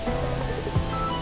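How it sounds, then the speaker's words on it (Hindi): Steady, broad rush of water spilling over the top of the overflowing Sasoi dam near Jamnagar, Gujarat, a dense continuous roar with no voices, short and even in loudness. "पानी ऊपर से आ रहा है।"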